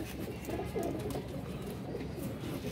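Pigeons coo steadily in a soft, murmuring chorus, several birds at once, close by and continuous.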